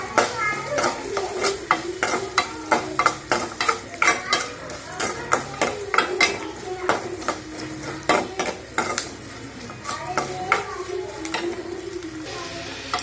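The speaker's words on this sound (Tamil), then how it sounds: "இன்னும் கொஞ்சம் நல்லா பூண்டு வதங்கட்டும்." Garlic sautéing in oil with turmeric for a Tamil garlic puli kuzhambu, sizzling steadily while a spoon scrapes and clatters against the pan in quick, repeated strokes, close by.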